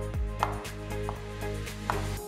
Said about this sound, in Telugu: 1 కప్ వాల్నట్స్ అంటే అక్రూట్లని కూడా చిన్నగా తరిగి